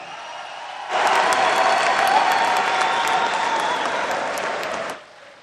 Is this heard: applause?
yes